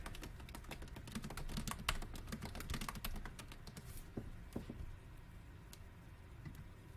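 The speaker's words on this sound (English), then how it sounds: "just click on the top text box and type in your tagline there" Fast, light keystrokes on a computer keyboard as a tagline is typed, a dense run of close clicks that thins into a few scattered taps toward the end.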